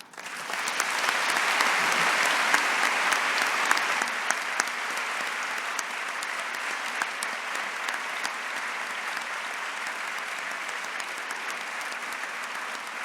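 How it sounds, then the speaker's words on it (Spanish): An audience at an awards gala applauds steadily, a dense wash of many hands clapping that swells quickly at the start and then holds at a slightly lower, even level throughout. "En el aplauso que ustedes me dedican, gracias de todo corazón"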